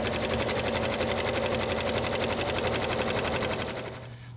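A sewing machine runs a straight stitch on a men's tank top, a fast even mechanical whir with rapid regular needle ticks, close and steady before slowing at the end.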